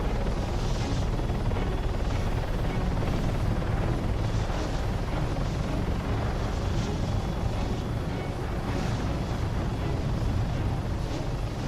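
Helicopter in ARMA III coming in to land on autohover, a steady dense rotor and engine roar that holds at the same loud level throughout with no pauses.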